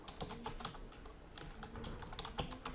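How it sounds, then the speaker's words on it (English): Rapid, irregular clicking of keys on a computer keyboard, close up, with brief pauses between bursts. "and typing the watermark title"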